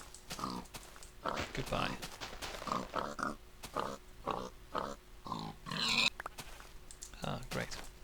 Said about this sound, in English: Ah, pig.